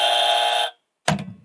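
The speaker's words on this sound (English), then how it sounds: "We got game show buzzers." Game show buzzer giving a harsh, loud electronic buzz for about two-thirds of a second, then a short pause and a brief second burst, with no talk.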